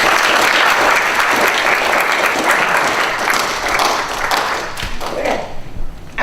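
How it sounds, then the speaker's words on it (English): An audience at an improv science morning session gives a round of applause for a team member, loud and dense at first, then thinning out into scattered claps and a few taps before fading near the end. "give Amanda another round of applause"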